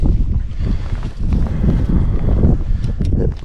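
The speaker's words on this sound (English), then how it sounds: "Wind's starting to pick up." Wind gusts across Penstock Lagoon in Tasmania, buffeting the microphone with a loud, rumbling roar that rises and falls, with no voices heard.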